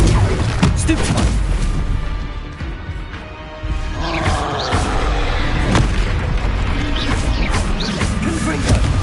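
Explosive Confringo and Bombarda spell blasts in the video game Hogwarts Legacy, loud booming impacts and crashes repeating over a dense, continuous stretch of combat noise, with a voice shouting during the fight.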